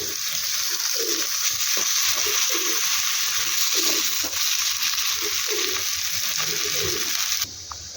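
Aloo bonda fry in shallow oil in a pan, giving a continuous, fairly loud sizzle with soft scraping as the pieces are turned. The sound stops abruptly near the end.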